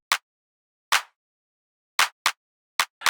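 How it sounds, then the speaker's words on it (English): A dry clap drum sample hit alone in an irregular beat pattern, six sharp short bursts over a few seconds with silence between them. "So we started with this clap."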